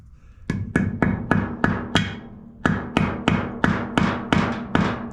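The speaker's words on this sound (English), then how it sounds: "And we'll just take a hammer." Hammer blows tapping a new oil seal into place on a John Deere LA145 riding mower, about eleven sharp close metallic strikes in a steady rhythm with a short pause after the first few, no talking.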